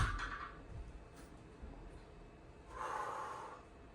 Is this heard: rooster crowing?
no